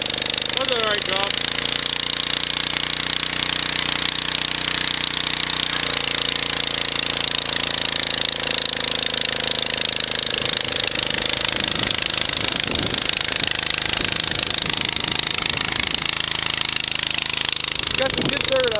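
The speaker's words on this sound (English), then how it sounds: "These 10-inch Brindleys are turning this over pretty good" A John Deere 110 garden tractor engine labors steadily while pulling 10-inch Brindley plows through soupy dirt at a garden tractor plow day, running continuously up close with voices talking over it.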